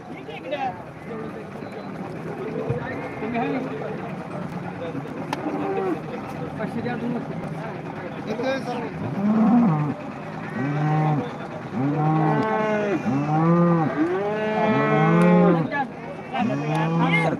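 Many cattle, including calves, moo repeatedly over a busy, noisy crowd at a livestock market in Modnimb, the bellows coming one after another, growing louder and denser toward the end.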